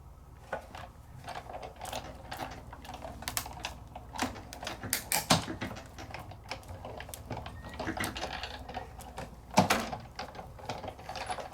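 A die-cutting machine rolling paper through with a die, cut plate and shim, producing a steady stream of crackling, ratcheting clicks and creaks with a few sharper snaps, close and moderately quiet.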